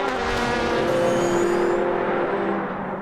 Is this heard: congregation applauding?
no